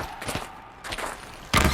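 Gunfire in the video game Horizon Zero Dawn: a few sharp shots in quick succession, with a louder burst at the end, no talking.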